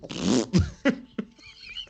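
A voice imitates a fart with a long, buzzing, wet blurt followed by a few shorter sputters, close and loud, in a tabletop roleplaying game session.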